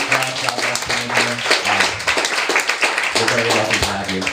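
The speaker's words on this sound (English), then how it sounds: "So once again, a round of applause." Applause for the poet John, a mix of clapping and cheering under continuous talk and low tonal voices, loud and close throughout.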